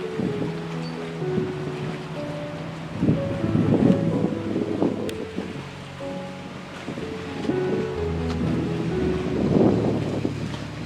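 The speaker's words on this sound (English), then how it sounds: "Yep, that's the water taxi coming there." A water taxi boat approaches beside a massive US aircraft carrier, its engine a low droning hum swelling in waves beneath heavy wind buffeting the microphone and lapping water.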